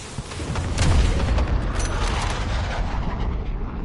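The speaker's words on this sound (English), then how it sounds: "Enemy cruise missile incoming, take cover." Cruise missile blast in a Modern Warfare Ground War match: a heavy, sustained rumbling boom that swells early and rolls on as dense low roar through the rest.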